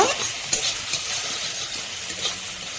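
Eggplant and tomato fry in hot oil with dried chili and panch phoron, a continuous close sizzle broken by scraping stirring strokes, with no voices.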